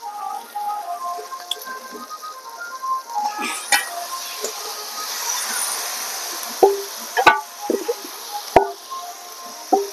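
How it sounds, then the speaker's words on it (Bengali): Marinated chicken going into spices frying in a pot over a village-style clay stove, giving a steady soft sizzle with wet squelching and several sharp clanks of a utensil against the pot toward the end. "তো এই ম্যারিনেট করা মাংসটা আমি মশলার মধ্যে দিয়ে দিচ্ছি।"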